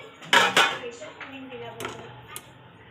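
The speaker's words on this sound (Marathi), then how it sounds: "यामध्ये ढोकळा चांगला झालाय की नाही ते बघून घेण्यासाठी आपण चाकू टाकून बघणार आहोत" A metal knife pokes and clinks against a pan holding steamed dhokla, giving two sharp knocks and then lighter taps, with a voice speaking faintly in between.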